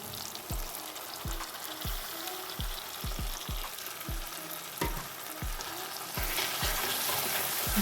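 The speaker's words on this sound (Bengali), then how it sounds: "পেঁয়াজ আর কাঁচা লঙ্কাটা আমি ভালো করে ভেজে নিচ্ছি।" Onions and green chillies frying in a pan, a continuous close sizzle with a run of dull, regular spatula knocks against the pan, the hiss swelling louder near the end and no speech over it.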